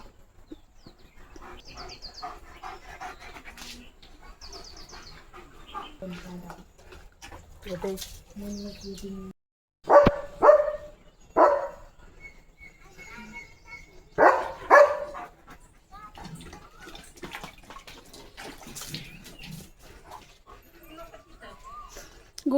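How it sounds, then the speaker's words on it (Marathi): A dog barks at a calf grazing in a rural field, several sharp loud bursts in two clusters mid-clip, with people talking and birds faintly in the background. "इथं गायचं पिल्लू चरतोय त्याला भुकतोय तो"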